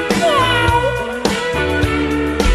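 A kitten meows over busy background music, the small cries rising and falling in short bursts and partly buried under the louder song.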